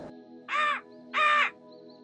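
A crow caws twice, two loud, harsh, evenly spaced calls close by over a quiet background with a faint steady hum.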